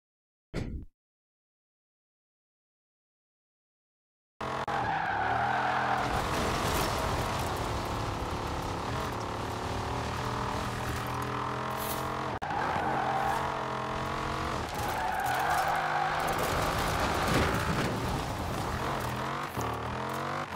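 A car in the Forza Horizon 4 racing game drives with a steady, loud engine drone and shifting revs, after a brief blip and a few seconds of silence, with tire scrub and skidding mixed in.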